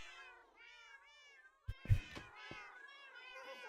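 A cat meows repeatedly in a drawn-out, wavering series of cries, loud and close, with a few sharp knocks partway through.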